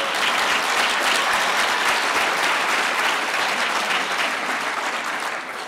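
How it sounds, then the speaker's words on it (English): A large audience at a governor's State of the State address in Queens gives dense, steady applause that stays loud throughout and fades a little at the end, with no voices. "yes, you should applaud that"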